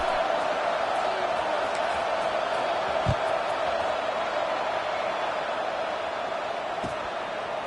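Stadium crowd at a college football game with Arizona State, a steady broad roar of many people with no distinct cheers, holding an even, fairly subdued level throughout.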